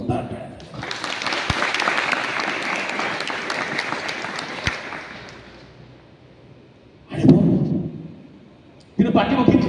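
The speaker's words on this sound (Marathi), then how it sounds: "मुक्ता साळवेसाठी एकदा जोरदार टाळ्या." An audience at a stage performance about Jotiba Phule breaks into loud sustained applause that swells and fades over about six seconds, followed by bursts of a voice speaking.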